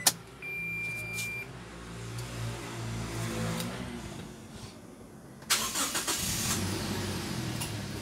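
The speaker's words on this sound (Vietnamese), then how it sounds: "Đem nổ máy lên cho mọi người cùng" An older automatic Toyota Fortuner starts with a click and brief electronic beep, cranks into a low steady idle, then a louder burst of engine noise swells near the end.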